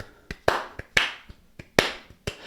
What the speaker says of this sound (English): here I have kind of a clap. It's that Afrobeat kind of